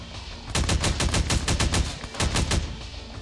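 Automatic gunfire in the game Half-Life: Badlands, rapid loud bursts of machine-gun shots in a fast steady rhythm, with a brief pause before a second burst.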